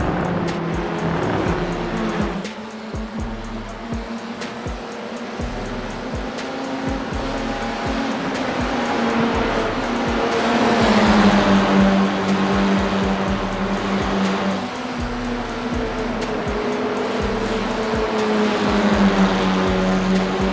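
A race car engine in a sim racing video game drafts in another car's slipstream, a loud sustained engine whine with shifting pitch and a steady low buzz, alone without talk.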